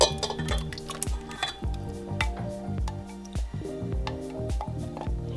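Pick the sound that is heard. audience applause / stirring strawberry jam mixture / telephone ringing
stirring strawberry jam mixture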